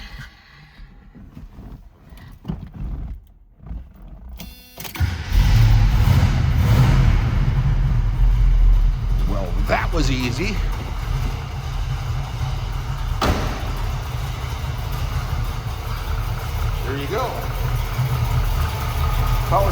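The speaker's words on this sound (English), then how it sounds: "start this 350 up, see what it sounds like." A 1974 Chevrolet Camaro Z/28's 350 four-barrel V8 cranks and catches after a quiet start, then settles into a steady, deep idle rumble that continues to the end, with a brief spoken remark.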